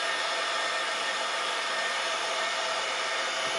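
A steady, smooth high-pitched whine of a 5 hp Columbo CNC router spindle running, constant and unbroken, close up with no voices.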